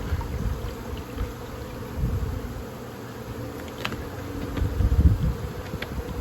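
Honey bees buzzing around a beehive being prepared for spring, a steady close swarm drone with individual insects darting past the microphone, swelling louder near the end.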